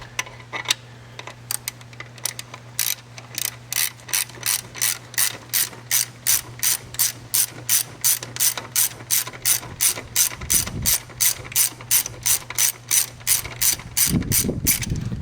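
A ratchet wrench clicks rapidly and rhythmically in repeated strokes while loosening the belt tensioner on a Subaru WRX, crisp and close with a low steady hum beneath and no talking.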